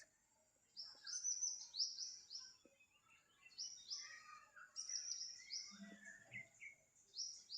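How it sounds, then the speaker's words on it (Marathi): Birds chirp and trill repeatedly in short bursts, fairly faint and distant, against a quiet outdoor background in a Konkan village in May. "पक्ष्यांचा आवाज"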